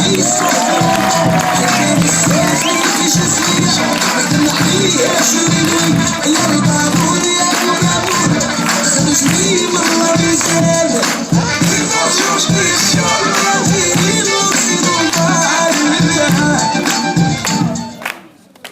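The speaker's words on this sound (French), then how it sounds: "je vais demander à tout le monde de faire un tonnerre d'applaudissements pour notre responsable ado Mrs. Sabrina" A crowd cheers and applauds for Mrs. Sabrina, the teen-club leader on the entertainment team at Club Lookéa Playa Djerba, a loud, dense and steady roar that lasts throughout and tapers off at the very end.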